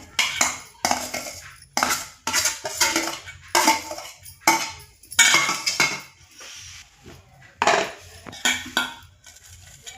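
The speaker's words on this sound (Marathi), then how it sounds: "कैरी आपण बारीक खिसून घेतलेली आहे, ती या भांड्यात टाकूया।" Finely grated raw mango is tipped into a kitchen vessel for a chutney, giving a run of close, loud metallic clinks and scrapes of a spoon against the pot, with brief pauses between bursts.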